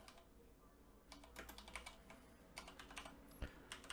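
Windows 11 computer keyboard being typed on at close range, with uneven bursts of sharp key clicks that bunch into quick runs and pause between them. There is a steady low background hum, and no voices.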